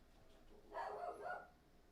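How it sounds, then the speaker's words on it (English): A dog lets out two muffled barks in quick succession, fairly faint and somewhat distant, with no talking over them. "Sorry about my dog."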